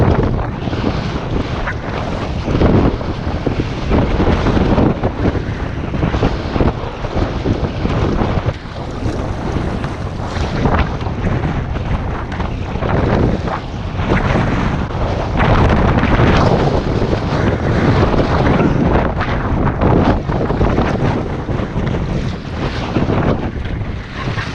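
Strong wind gusts roar steadily across a lake during kayak fishing, with broadband buffeting on the microphone and wave wash throughout, loud and continuous with no pauses.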